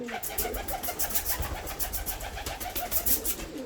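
Show pigeons cooing inside a loft, a continuous layered chorus of soft throaty calls with rhythmic pulses running throughout, fairly close and steady.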